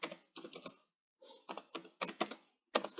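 Quick bursts of clicking keys on a computer keyboard, close and crisp, arriving in short clustered runs separated by brief pauses, with no voices over them.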